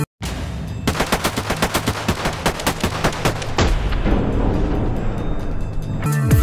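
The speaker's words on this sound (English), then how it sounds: "MP5 gun." An MP5 submachine gun firing in one long rapid burst, loud, with steady clipped shots that run together into a dense roar and then a quick mechanical clatter at the end, with no talk.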